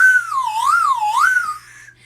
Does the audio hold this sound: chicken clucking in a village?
no